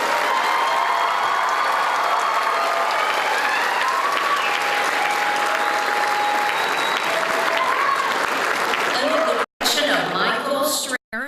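A commencement crowd at Brunswick Community College gives sustained applause for a concert band, loud and dense for about nine seconds before breaking off abruptly, followed by brief clatter and voices.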